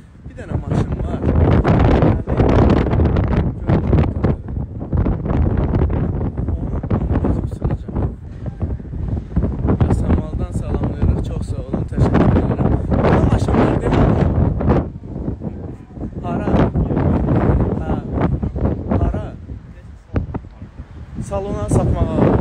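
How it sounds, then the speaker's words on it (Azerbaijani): Strong, cold wind buffets a microphone outdoors, a continuous roaring rumble with repeated gusts over more than twenty seconds, while people talk intermittently beneath the noise. "Küləkdir dəhşət, soyuqdur."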